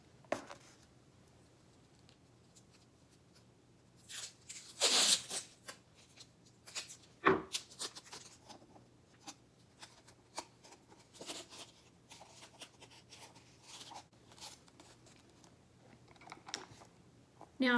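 Tape is pulled and wrapped around a balloon stretched over a cardboard tube, with sparse short ripping and crinkling bursts separated by quiet pauses, close and intimate.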